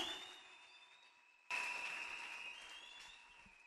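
A church congregation applauding and cheering during worship: faint clapping fades, then a sudden burst of fuller, louder applause carries on steadily.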